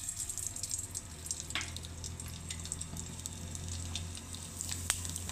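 Sabudana and potato chakli dropped into very hot oil sizzle with a steady, fairly faint bubbling hiss and scattered pops.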